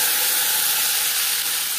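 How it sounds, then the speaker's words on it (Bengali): Tomatoes tipped into hot oil already frying a bay leaf and panch phoron for a drumstick curry, giving a steady, close sizzle with broad hissing steam that holds evenly throughout. "পাঁচফোড়ন তেজপাতা ভেজে নেওয়ার পর দিয়ে দেবো টমেটো।"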